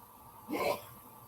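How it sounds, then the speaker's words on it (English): A man sneezes once in the background of a quiet room at home, a single short, moderately faint burst. "My husband just sneezed."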